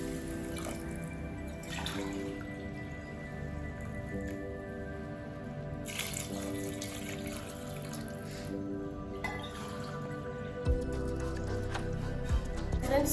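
Water poured into a cooking pot for vegetable biryani, a steady splashing stream with a few louder gushes and drips, heard alone without talk.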